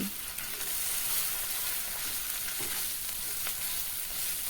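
Chopped tomato and crab fat sizzle steadily in a hot pan for a small crab curry, a continuous close frying hiss with faint stirring scrapes and no voices.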